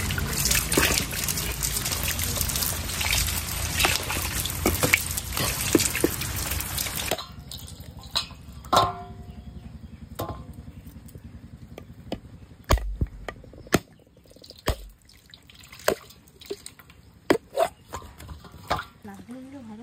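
Water trickling and dripping as coconuts are washed by hand, with a steady running stream at first, then sparse splashes and drips, while a voice talks.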